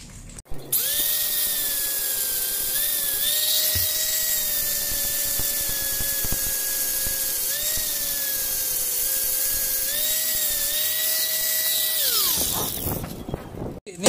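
Power tool polishing a Honda Beat Street scooter wheel rim: a steady high-pitched whine that holds for about twelve seconds with slight dips in speed, then winds down, close and loud, with no talking.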